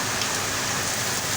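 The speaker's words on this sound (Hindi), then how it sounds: "बहुत तेज़ दोस्तों तूफ़ानी बारिश है और बहुत ही ठंडी बारिश है।" Steady, dense downpour of heavy, cold storm rain, a continuous hiss with no pauses and no voices, close and fairly loud.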